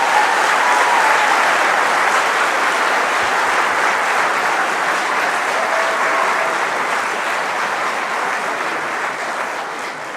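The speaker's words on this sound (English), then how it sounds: "can we please have one more round of applause for them?" A middle school choir concert audience claps in sustained, dense applause that tapers slightly toward the end.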